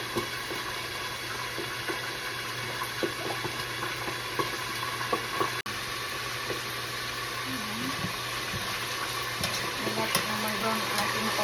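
Tofu and milkfish fry in a pan, giving a dense, continuous sizzle with scattered crackles and pops, while a voice speaks softly in the background.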